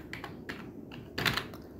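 Rapid keystrokes on a computer keyboard as HTML code is written, coming in short uneven bursts with brief pauses and a louder cluster of clicks near the end, close and clear with no talking.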